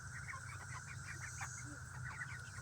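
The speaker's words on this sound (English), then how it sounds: "The meat birds, they are doing fantastic." Meat chickens on a homestead cluck in repeated soft calls, moderately near, above a steady low hum through the whole stretch.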